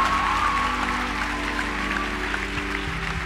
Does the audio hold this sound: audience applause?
yes